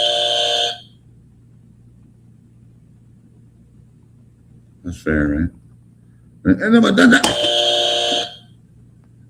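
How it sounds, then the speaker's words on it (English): A double electronic buzzer on a live-streamed online show sounds twice, a steady harmonic tone at the start and a longer one near the end, with people talking in between and over the second tone. "if you hear like a double buzzer, what are they? Someone's leaving."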